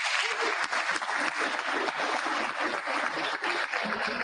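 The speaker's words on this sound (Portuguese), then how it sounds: "uma salva de palmas" An audience at a talk on modern AI applauds with dense, sustained clapping that stays even and fairly close for several seconds.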